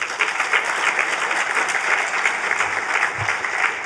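An audience at a formal conference ceremony applauds an official called to the stage. Dense, steady clapping fills the whole stretch at close range and loud level, with no speech over it.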